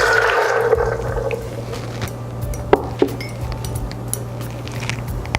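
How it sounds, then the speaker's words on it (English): Water poured into a Vitamix blender jar over cashews, a gushing splash that fades into a steady trickle and drip, with a couple of sharp clinks near the container, close and moderately loud. "Add the water."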